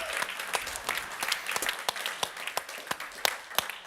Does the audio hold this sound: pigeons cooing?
no